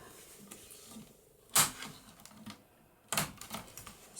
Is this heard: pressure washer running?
no